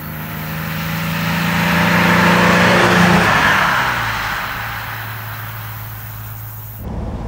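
A 1965 Mercedes 300 SE Cabriolet engine drones while driving through open countryside, swelling as it accelerates, then easing to a steady cruise with wind rush, loud and close.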